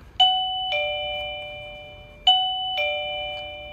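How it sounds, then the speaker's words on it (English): A wireless digital door chime rings twice, each press sounding a clear two-tone electronic ding-dong that rings out and fades indoors. "this is the digital door chime we'll be using today"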